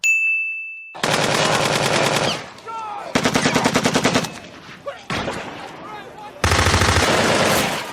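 Sustained automatic gunfire from a TV drama set among zombies, rattling in loud, dense bursts of about a second each separated by short pauses, close and dominant.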